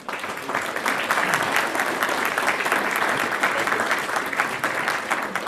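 An audience at a naturalist's talk about Antarctica claps steadily, sustained applause from a crowd that holds at an even level for several seconds.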